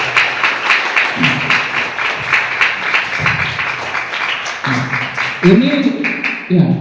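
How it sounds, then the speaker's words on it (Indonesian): Students at an Islamic junior high school (madrasah tsanawiyah) ceremony clap steadily and fairly loudly in a hall, with voices mixed in under the applause. "Tepuk tangan buat kalian semua"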